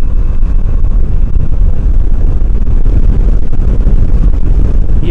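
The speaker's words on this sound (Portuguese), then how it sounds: "assim que se acelera mais um bocado é uma ventania" Steady broadband wind roar buffets the microphone while riding a Yamaha Tracer 700 motorcycle along a riverside road on a hot day, loud and continuous with low rumble throughout.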